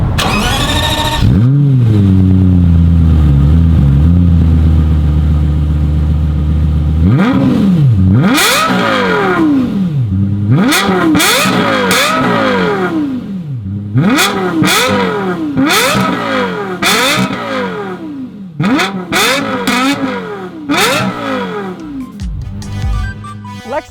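A Lexus LFA engine starts and then revs hard toward 9,000 RPM in repeated sharp bursts, each climbing and falling quickly, loud and close, with no talking.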